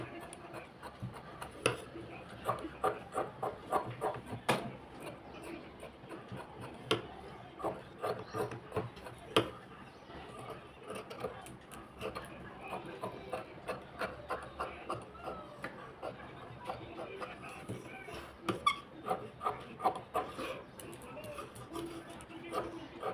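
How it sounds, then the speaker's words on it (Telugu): Scissors snip steadily through blouse fabric during tailoring, a rapid series of short crisp cuts at close range under a person's continuous talk. "సేమ్ ఫ్రంట్ పార్ట్ మొత్తం ఇలా కట్ చేసుకోవాలి."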